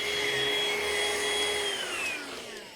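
A cordless vacuum cleaner runs steadily with a loud, whining high-pitched motor tone and airy suction hiss, its bin packed beyond full, the pitch dipping slightly as the clip ends.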